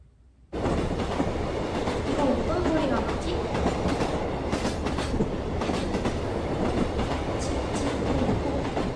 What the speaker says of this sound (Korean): 기차 소리가 나네. 맞았어. 기차야.